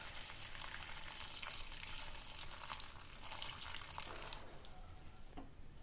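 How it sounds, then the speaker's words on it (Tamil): Salted cooking water from black chickpeas (kadalai) pours into a curry with fried onions, a continuous gushing, sizzling wash that lasts several seconds, close and steady, with no voices. "நம்ம இந்த வேக வச்ச தண்ணியே இதோட நம்ம ஆட் பண்ணிக்கலாம்."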